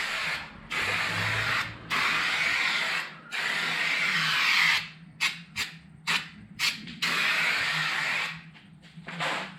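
A spray gun sprays thick black bedliner coating onto the fading parts of a Nissan LS Patrol in loud hissing bursts of several seconds each, broken by short choppy blasts and brief pauses.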